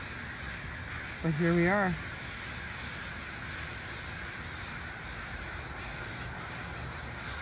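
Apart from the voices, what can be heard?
crows cawing in a murmuration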